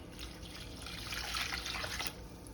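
Water is poured into a cooking pot for making grits, giving a steady splashing rush for about two seconds in a quiet kitchen.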